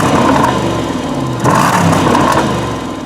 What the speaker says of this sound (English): 470 horsepower supercharged V8.